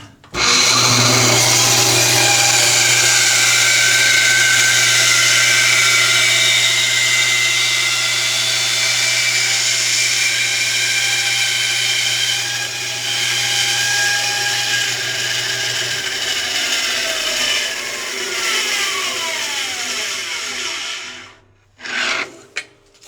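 A handheld router cutting an inlay recess in wood with guide bushings, a loud, steady, close motor whine with shifting rasp as the bit cuts for about twenty seconds, then spinning down to near quiet.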